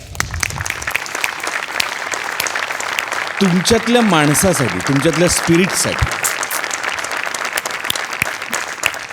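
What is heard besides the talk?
audience applause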